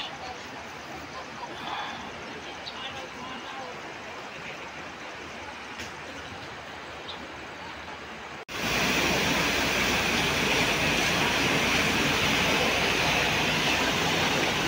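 Rushing river water pours down at a dam on the Lapad River in Santa Cruz, first as a softer distant wash, then an abrupt cut to a loud, close, continuous roar of churning water.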